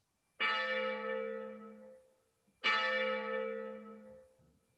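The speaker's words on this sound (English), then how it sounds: "The bell invites me." A church-style bell tolls twice during a live stage performance of Macbeth, each stroke striking loud and clear then ringing out in a long, slowly fading hum, with no voices over it.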